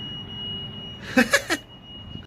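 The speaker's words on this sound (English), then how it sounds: "Something in this closed shop is too near the alarm barriers and they're having a very bad day" Security alarm barriers at a closed shop give three quick electronic beeps over a steady high tone and quiet street ambience.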